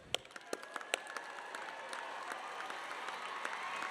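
Audience applause at a summer commencement ceremony as graduates' parents stand, scattered sharp claps at first settling into a continuous moderate patter of a large crowd.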